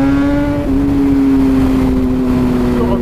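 A 2010 BMW S1000RR sports motorcycle fitted with an Akrapovic exhaust holds a steady, loud engine drone with a clear tonal note that shifts slightly once, running continuously with no talk.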